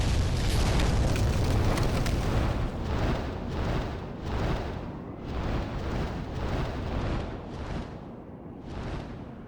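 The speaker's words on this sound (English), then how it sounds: "at that point the dragon will attack" A dragon attacking in the video game Demon's Souls, a long roaring fiery blast with rumbling explosive booms that rise and fall in repeated surges and gradually fade.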